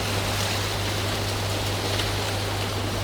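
Water running steadily from a tap into a shallow fish pond stocked with tilapia fry, a constant close broadband splash and hiss with a low hum underneath, no voices.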